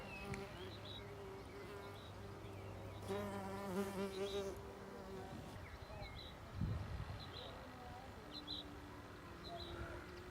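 A shiny mason bee buzzes in a garden, its close, wavering drone rising and falling over a steady low background hum, with faint birdsong and soft outdoor ambience around it.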